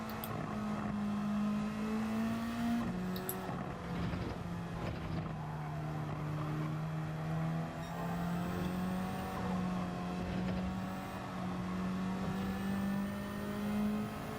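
Race car engine in Gran Turismo at Suzuka, an F4-class car, droning steadily at high revs with a gear change upshift early on, continuous and loud throughout with no talk.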